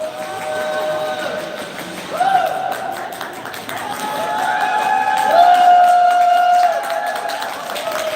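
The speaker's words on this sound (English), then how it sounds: "Getting some cheers" A crowd cheers at a Steel Queens ice hockey game against Widnes Wild, a broad roar that swells toward the middle and holds, with sustained horn-like tones ringing over it.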